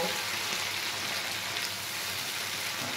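Mustard masala for a hilsa curry fries in a pan on lowered heat, a steady dense sizzle like light rain that holds evenly throughout with no talking.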